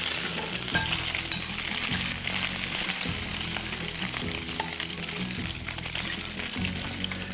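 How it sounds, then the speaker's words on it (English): Garlic and anchovies frying in olive oil in a pan, a continuous close sizzle with crackling bubbles and occasional stirring scrapes throughout. "the garlic's gonna caramelize, the anchovies are gonna cook in there"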